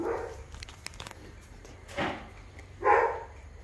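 A dog barks a few times at a family home in Goa, India: short, moderately distant barks spaced about a second apart, with faint ambient noise between them.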